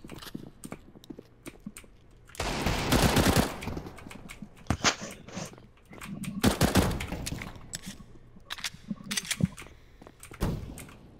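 Rapid gunfire from Counter-Strike: Global Offensive, including 357 pistol fire, comes in several loud bursts of shots separated by short gaps, with sharp single cracks scattered between them.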